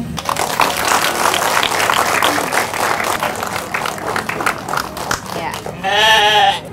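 A goat given as a gift during a home renovation handover bleats once, loud and quavering, near the end. Before it comes a steady wash of crowd noise and chatter.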